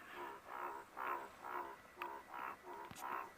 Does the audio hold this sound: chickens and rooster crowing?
no